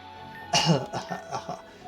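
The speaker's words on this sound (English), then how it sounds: "You've been coughing quite hard since we touched down in the Rayon region." A character in a Pokémon fan game coughs hard in a sudden loud burst, followed by several shorter rasping coughs in an uneven rhythm, close and alone.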